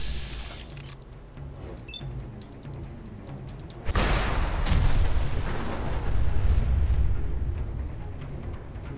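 A gunshot strikes a tree close by in Fallout 4, a sudden loud broadband burst of impact that stays as a dense, rumbling wash over the following seconds, with no voices over it.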